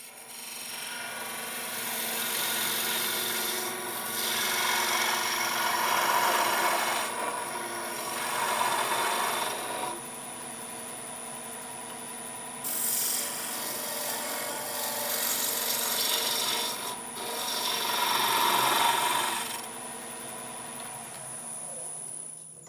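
Wood turning on a lathe produces a steady scraping, rasping cut in long sustained passes with brief pauses between them, over a constant motor hum, loud and close.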